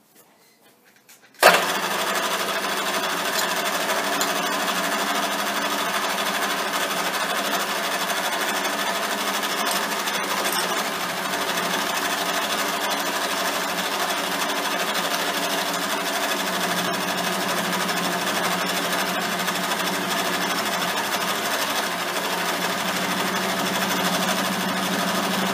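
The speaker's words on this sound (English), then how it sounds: "Now we'll put a chamfering tool in. We'll just clean up the edges." A chamfering tool on a milling machine cleans up the edges of mounting slots cut in an aluminium block, giving a steady, loud, continuous whirring cut that starts abruptly and runs unbroken, with no talking.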